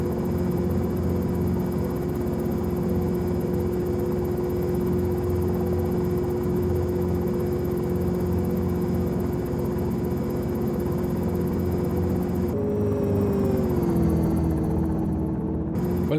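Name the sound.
Dynali EasyFlyer H3 helicopter flying, from video game X-Plane 11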